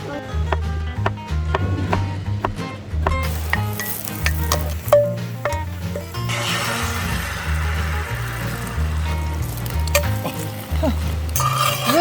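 An egg mixture stirred in a hot pan at a campsite, a steady sizzle of frying with scraping and clinking of the utensil throughout, over a low rhythmic background.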